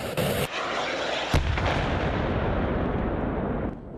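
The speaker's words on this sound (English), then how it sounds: "This is the Javelin anti-tank missile system." A Javelin anti-tank missile fires with a sharp, loud launch blast, followed by a second burst and a long rushing roar that fades out over a few seconds, heard from nearby outdoors.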